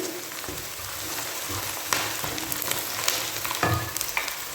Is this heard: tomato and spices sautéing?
yes